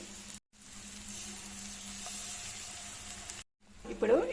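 Eggs cracked one at a time into a hot pan with garlic and turmeric, a soft steady sizzle broken by brief gaps, with a louder crackle rising at the end.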